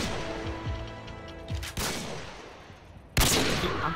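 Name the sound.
gunfire in the video game Call of Duty MW2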